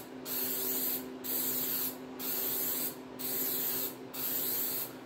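A spray can lays flat black paint onto the valley pan of a 1968 Pontiac GTO 400 in five steady hissing bursts, each about a second long with short pauses between, close by and alone.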